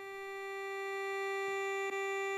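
Garrett Master Hunter CX Plus metal detector giving its low threshold hum, a steady continuous tone held at an even level throughout with no voices.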